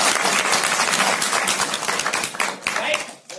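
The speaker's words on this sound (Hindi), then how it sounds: "तो एक बार जोरदार तालियां।" Loud, close clapping from an assembled crowd at a business gathering in Kolkata, dense at first and then thinning and tapering off unevenly, with some voices mixed in.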